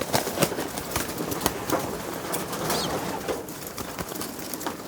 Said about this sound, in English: these guys are still little babies, they're still squeaking